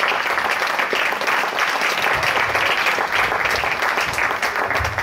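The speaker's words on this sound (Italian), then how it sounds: "quindi io glielo farei un altro applauso perché se lo merita tutto" Sustained applause from an audience at a film festival event in Sammichele di Bari, a steady dense wash of clapping hands that holds loud and even for the whole stretch.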